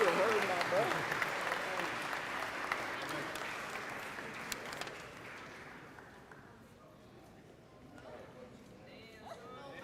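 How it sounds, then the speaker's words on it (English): A crowd at a high school graduation ceremony claps loudly at first, the applause thinning and fading over several seconds into quiet room noise, with a voice faintly audible near the end. "Let's give another round of applause for the class of"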